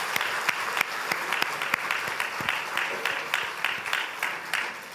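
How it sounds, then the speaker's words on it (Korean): A church congregation applauding after a trumpet offering at a worship service, with dense, steady clapping from many hands filling the room for the whole stretch. "다시 한번 박수하겠습니다."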